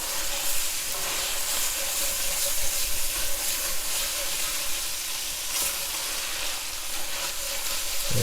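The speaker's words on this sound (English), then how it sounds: "once you've had a chance to stir that tomato puree, that concentrate, into your meat really well" Ground meat and tomato concentrate for a bolognese sauce sizzle steadily in a hot pan while being stirred, a dense, continuous frying hiss with soft scraping, close and fairly loud, with no talking.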